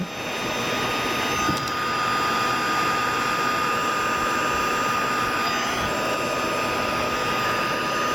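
A heat gun used to melt embossing powder on a stamped card blows a loud, steady whooshing roar that holds constant for about eight seconds at close range, with no talking over it.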